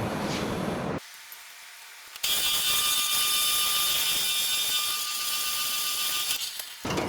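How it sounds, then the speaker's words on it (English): Power tool drilling out wooden slingshot targets on a drill press, a loud sustained whine with steady high-pitched tones running for several seconds after a brief pause, close and alone. "So I'm gonna cut those out, or drill those out real quick"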